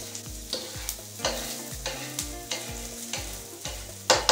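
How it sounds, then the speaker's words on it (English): Sautéed onions are scooted aside with a spatula in a smoking-hot pan before dosa batter goes in: a steady sizzle broken by rhythmic scraping strokes, close and fairly loud, with no voices. "Now I'm just going to scoot the onions over to the side like this"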